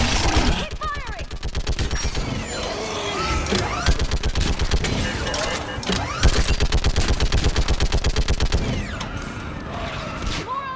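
Rapid automatic gunfire in a firefight from the video game Mass Effect 3, at Thessia: dense, rhythmic bursts of shots, with short pauses and mechanical clatter in between, loud and close throughout.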